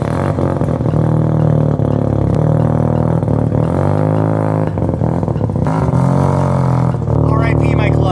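A car that can't get into first gear pulling away in third gear, its engine droning and straining at steady low revs, loud and close with some clatter throughout.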